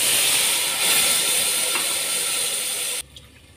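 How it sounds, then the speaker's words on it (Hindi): Water is poured into a pan of roasted broken-wheat porridge, a loud, continuous sizzling hiss lasting about three seconds before cutting off to near quiet. "अब इसमें मैं ऐड कर रही हूँ पानी।"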